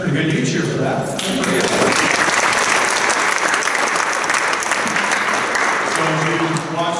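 An awards-ceremony crowd at the Guy V. Lewis Awards breaks into loud, sustained applause with some cheering, and a speaker's voice is audible at the start and end.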